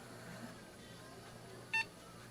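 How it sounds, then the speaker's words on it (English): A Dell Inspiron 545s desktop computer gives a single short, sharp POST beep at power-up, loud and close, following quiet background hum. "a post beep, so we're live."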